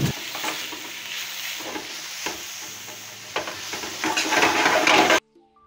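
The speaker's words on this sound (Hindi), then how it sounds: "अब इसमें डालूँगा कीमा चिकन जो मैंने नाइफ से काट कर रखा था। मैं इसे अच्छा से मिक्स करके पका लूँगा।" Minced chicken for momos stirred and fried in a pan: a steady sizzle broken by repeated scraping strokes of a spatula, swelling louder toward the end before stopping abruptly.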